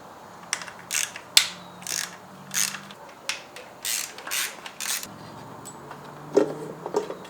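Ratchet wrench with a deep socket working on engine studs of a BMW E30 during a head gasket job, giving repeated bursts of close, crisp ratcheting clicks in an irregular rhythm with short pauses, no voices.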